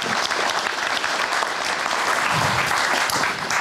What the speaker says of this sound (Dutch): Geef ze een warm applaus.